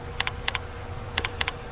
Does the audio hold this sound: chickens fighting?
no